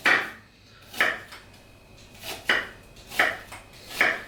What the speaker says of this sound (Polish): Na początek kroimy cebulę